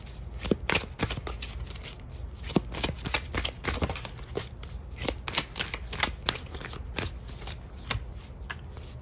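Tarot cards being shuffled by hand, a close run of quick papery riffles and soft taps in an uneven rhythm, with no talking.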